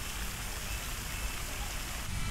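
Rain falls steadily outdoors at a lake in a Thailand town, a dense, even hiss with no pauses and no talking.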